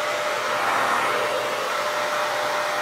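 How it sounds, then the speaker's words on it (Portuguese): A hair dryer fitted with a diffuser dries hair, giving a continuous, even airy roar close by with no talking over it. "Vou secar mais o meu cabelo aqui com o difusor e já volto"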